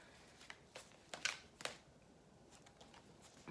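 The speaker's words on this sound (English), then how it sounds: "So we're just going to shuffle the cards and very well until I hear that ding." Very faint tarot cards being shuffled by hand, a few soft riffling flicks and taps in a quiet room.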